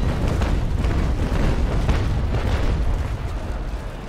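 Ship cannons firing in the naval combat game Naval Action, a continuous heavy rumbling barrage of overlapping booms, loud and dense throughout with no distinct gaps.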